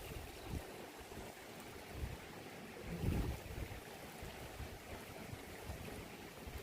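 Wind blowing through a hotel garden, a soft broad rushing noise with faint gusts, one a little stronger midway, heard alone at low level.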